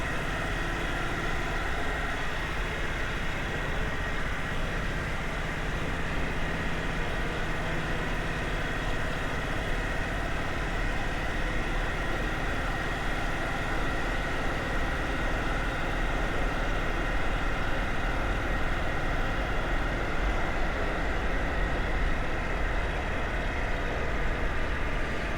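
A freshly rebuilt vintage BSA single-cylinder motorcycle engine idles steadily, a constant low mechanical drone that holds at an even, moderate level throughout.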